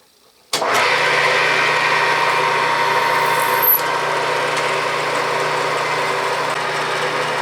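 A Bridgeport mill starts abruptly and runs at a steady whine while a center drill spots a hole, with a brief high squeal of the cut partway through, close and fairly loud.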